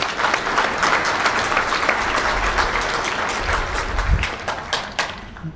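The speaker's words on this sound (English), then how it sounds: "So if we could just like clap for Artem right now, it's pretty cool." An audience at the DEF CON 17 hacking conference breaks into sustained applause, a dense, loud wash of clapping that holds steady throughout before tapering slightly at the end.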